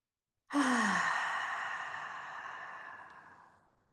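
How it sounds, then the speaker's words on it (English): One long, deep exhale breathed out slowly during a yoga session, close and clear, tapering off over about three seconds in an otherwise quiet room. "Take a few deep breaths."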